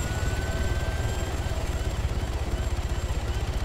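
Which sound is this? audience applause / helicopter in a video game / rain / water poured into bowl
helicopter in a video game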